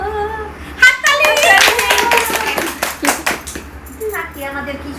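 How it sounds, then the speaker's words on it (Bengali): Hand clapping from a small group at a casual gathering in a friend's home after a song: a brisk, close burst of claps lasting a few seconds, with voices chattering over it and continuing afterward. "হাততালি"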